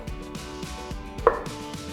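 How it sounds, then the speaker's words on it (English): A knife chops Mexican squash (hobak) into big chunks on a cutting board, landing a quick, even series of close, crisp thuds, about four per second with one sharper hit near the end. "cut into big chunks like so"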